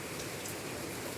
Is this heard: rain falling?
yes